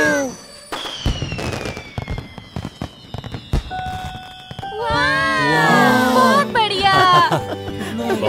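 A cartoon fireworks show in an animated children's series about little trains, with whistling rockets, rapid crackling bursts and bangs, and characters' voices and cheering mixed in.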